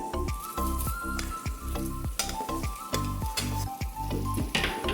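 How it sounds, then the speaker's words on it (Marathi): A hot tempering with fried garlic is poured into puffed rice for bhadang chivda, a loud close sizzle with repeated sharp spoon taps and clinks against the pan in quick succession. "इथे आपण फोडणी तयार करून घेतलेली आता ही चिरमुऱ्यामध्ये आपण घालूया"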